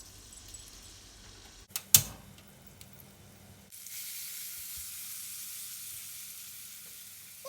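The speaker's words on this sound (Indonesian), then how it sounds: "sisakan sedikit minyak goreng dan tumis bawang putih yang sudah dihaluskan" Garlic paste sautés in a little frying oil, a faint sizzle broken by a sharp clatter of utensils, then a brighter, steady hiss that holds to the end.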